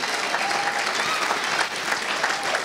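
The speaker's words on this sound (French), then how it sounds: "Quelqu'un acclame le Seigneur." A church congregation bursts into sustained applause, dense clapping from many hands filling the room, steady and fairly loud throughout.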